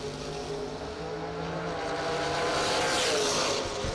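A Chevrolet Z34 drag racing car makes its run: a loud, sustained engine roar that swells and grows harsher toward the end, with no voices.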